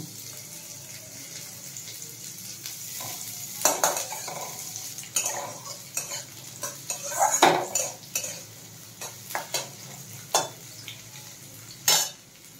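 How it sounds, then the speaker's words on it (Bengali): Vegetables fry in ghee in a wok for fried rice, with a soft sizzle under repeated clinks and scrapes of a metal spatula stirring against the pan. "ঘি দিয়ে সব সবজিগুলো ভেজে নেব।"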